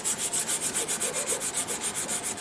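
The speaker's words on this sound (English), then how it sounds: "I'm going to sand this as close to level as I can get it" Rhythmic back-and-forth sanding on the finish of a 1927 Harmony Lindbergh guitar, a steady scratchy rubbing that pulses about six times a second, close and even, with no voices.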